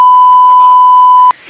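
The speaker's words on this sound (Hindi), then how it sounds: "ये बीप डाल दूंगा मैं" A loud, steady censor beep tone added in editing runs unbroken for over a second, covering speech underneath, then cuts off abruptly into quiet background.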